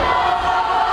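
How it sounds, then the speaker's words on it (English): Hibbing crowd cheering at a high school volleyball match in a gym, a loud, dense roar of voices sustained for a moment after a point. "the Hibbing crowd erupts with joy"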